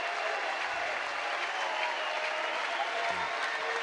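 Steady, dense roar of a college baseball crowd in the stadium during a Georgia Tech vs Ole Miss game, continuous applause and cheering at an even level with no breaks throughout.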